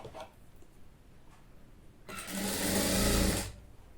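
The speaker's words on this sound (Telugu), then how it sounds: "ఫోల్డ్ చేసి దీని పక్క నుండి ఈ విధంగా స్టిచ్ వేయండి." A sewing machine stitches piping in a rapid, whirring burst of about a second and a half after some quiet handling sounds, close and fairly loud.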